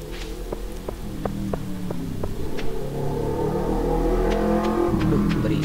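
A motorcycle engine rumbles nearby and builds steadily louder, passing close with a continuous droning hum and no voices.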